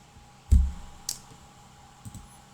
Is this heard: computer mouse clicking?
yes